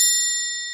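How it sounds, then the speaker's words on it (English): Small triangle bell struck once during a live hypnosis stream, a single bright ding ringing clearly and fading slowly, alone with no talk. "Got to give the little triangle bell for that one."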